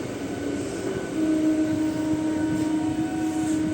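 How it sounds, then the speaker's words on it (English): An MMTS suburban train rolls into Bhudevi Nagar railway station with a steady rumble and a sustained tonal whine that grows slightly louder as it comes in. Nobody speaks. "we are entering the Bhudevi Nagar railway station"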